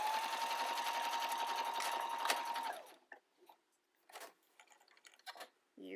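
Sewing machine stitching fabric for a cloth mask, a steady fast mechanical whir lasting close to three seconds, then stopping, followed by faint handling clicks and rustles.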